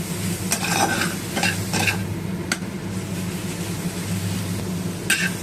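Bottle gourd greens stir-frying in a pan, with a steady close sizzle and several short scraping strokes of a spatula against the metal, spaced irregularly across the clip.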